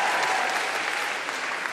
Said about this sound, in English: Applause for my imaginary girlfriend.